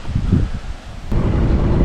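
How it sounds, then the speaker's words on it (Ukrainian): Steady, strong wind gusts roar through treetops beside a river, a broad rushing noise that swells midway and stays loud to the end. "поверху деревах там дує такий досить сильний вітер"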